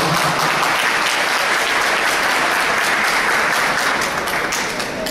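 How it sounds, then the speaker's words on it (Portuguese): An audience at an evening Spiritist lecture event applauds to welcome the speaker: a full, dense wash of clapping, loud and sustained throughout with no pauses. "Uma salva de palmas para Mireia, por favor."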